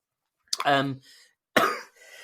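Two sharp coughs, a second apart, each followed by a short wheezy breath, close and clear in a quiet room.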